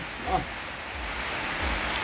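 Steady rain falls ahead of an incoming typhoon at a rural home in the Philippines, a constant even hiss with no break and no voices.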